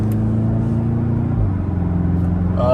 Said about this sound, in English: The motor is definitely vocal. You can hear it, as you would expect for a hot hatch.